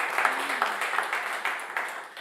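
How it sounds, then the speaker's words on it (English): A live radio studio audience applauds the Lonetones after their set: a dense, steady patter of clapping from a modest crowd, moderately close, with no talk over it. "how about one more round of applause for the Lonetones"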